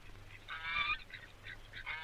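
Ducks calling near a house as a family loads up to move away, a few short nasal honking quacks in quick succession over a low steady background hum.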